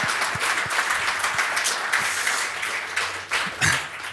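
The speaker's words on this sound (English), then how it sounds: "So round of applause for Lake." An audience at a talk about intactivism applauds for Lake, with a sustained wash of mixed clapping and a few sharper individual claps, steady for several seconds before tapering slightly near the end.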